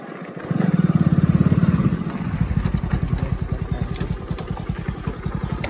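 Motorcycle off-roading on a rough track: the engine revs up loud and close, then settles into a fast, steady thumping putter as the bike rolls over uneven ground.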